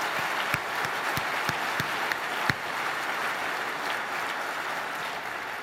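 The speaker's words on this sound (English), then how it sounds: "another round of applause for all the people who brought this together" The audience at the Google I/O 2012 day-one keynote fills a large hall with broad, steady applause, with a few sharp individual claps standing out near the start before it gradually thins.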